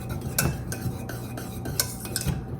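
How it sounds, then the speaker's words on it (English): A whisk clinks and scrapes rhythmically against a bowl as chocolate syrup is beaten together with vanilla, quick repeated metallic taps and swishes close up, with no voices. "we're going to whisk this together"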